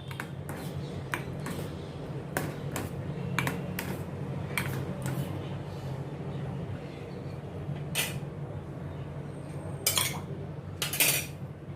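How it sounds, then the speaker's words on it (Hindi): Potatoes are stirred in a cooking pan with onion and tomato for dum aloo: repeated sharp metallic clinks and scrapes of a spoon at irregular intervals over a low steady background hum. "आलू को डाल के अच्छी तरह से मैं प्याज और टमाटर के साथ इसको मिक्स करूँगी।"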